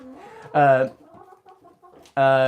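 Backyard chickens give two loud, close clucking calls, each a short harsh squawk, separated by a quieter stretch where a person talks softly.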